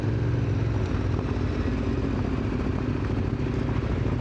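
A motorcycle passes close by on a mountain road in the Bolkar range of the Taurus Mountains, its engine a steady, loud drone with some mechanical clatter that holds throughout.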